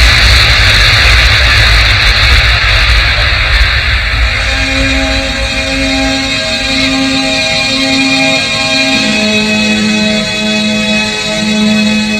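Jet aircraft at Kennedy Airport in winter, a loud sustained engine roar with a steady whine and droning tones, heard alone.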